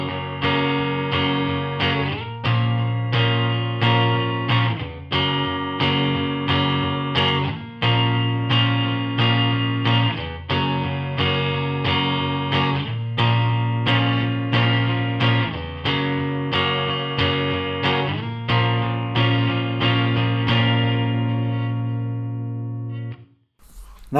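An electric guitar strums a Northern Soul verse in steady eighth-note chords with dynamic accents, an effects-coloured tone repeating through eight bars and ringing out alone at the end.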